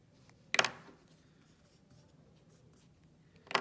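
Marker or pen drawing a line during a synthetic division lesson, two short scratchy strokes about three seconds apart over quiet room tone, no talk.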